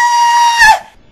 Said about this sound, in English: Little Red shrieked